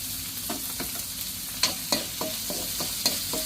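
Onion, green chili and curry leaves frying in a pan as the base for a mutton curry, a steady sizzle broken by several sharp spoon scrapes and pops, close and fairly loud with no talking.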